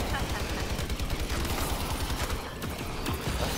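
An MG turret in Exo Zombies fires a dense, continuous stream of rapid shots at close range, filling the whole moment with harsh, unbroken gunfire.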